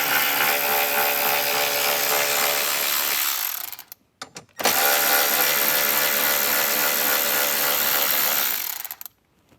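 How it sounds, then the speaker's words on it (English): A power tool whirs continuously while backing out two 10mm bolts holding a speaker in a 2024+ Jeep Wrangler, stopping briefly midway and then running again to the end. "Let's get these 2 bolts out."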